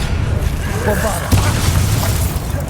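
A Bombarda spell explosion in the video game Hogwarts Legacy, a loud low boom with rumbling debris that rolls on under a voice calling out, followed by a sharp burst partway through.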